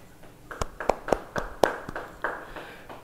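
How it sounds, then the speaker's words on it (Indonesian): A church congregation claps hands during a Bible study service, giving a handful of distinct, separated claps in a loose rhythm, close and fairly sharp against a quiet room. "Yang percaya beri tepuk tangan buat Tuhan."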